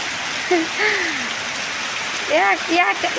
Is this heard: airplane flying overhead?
no